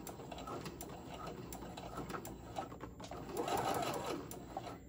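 A sewing machine stitches steadily back and forth over a small fabric scrunchie, its rapid mechanical needle rhythm running close and continuous, swelling slightly louder near the end.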